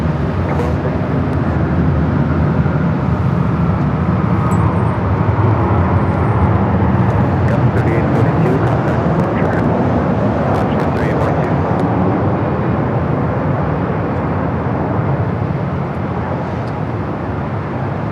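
A Frontier Airbus A321 with a jaguar tail livery takes off from runway 24 left at Los Angeles International Airport, a loud, steady broadband jet roar that continues unbroken for the whole stretch.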